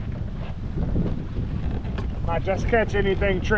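Wind gusts buffet the microphone steadily on a fishing boat out on Lake Hartwell while someone talks over the rushing noise.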